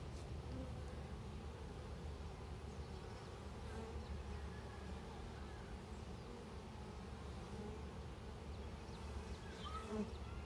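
A dense, steady hum of many honey bees buzzing close by around a hive box, continuous and low, with no voices.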